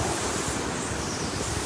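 Hurricane winds and pounding surf batter a home in Cape Coral, Florida, a loud, unbroken roar of wind noise and crashing water with no pauses.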